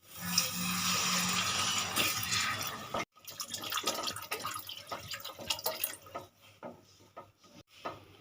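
Water poured into a pan for a fish (lote) kofta curry, a steady splashing stream for a few seconds, then a cut to scattered drips and small clinks in a quiet kitchen.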